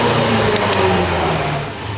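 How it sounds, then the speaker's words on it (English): Loud car engine roars steadily at close range inside a parking garage, a continuous revving drone that fills the enclosed space and eases slightly near the end. "You're in the parking garage and you got a loud car."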